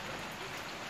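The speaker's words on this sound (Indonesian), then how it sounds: "ini suara hujan guys di sini guys" Steady rain falls outdoors in a place with no dry season, a soft, even hiss of drops on surfaces, faint and unbroken for the full second, with no voices over it.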